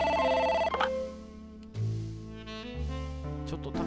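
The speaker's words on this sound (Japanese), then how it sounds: "電話がかかってきましたので電話を取っちゃいましょう" A telephone rings in a detective video game, a loud electronic ring tone that cuts off and gives way to shifting synthesized game tones, with no talk over it.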